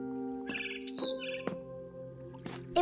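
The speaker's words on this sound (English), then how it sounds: "It was a barn swallow going back to her nest." Barn swallow chirping in the video game What Remains of Edith Finch: a few short, bright chirps scattered over a steady ambient game background, with no voices.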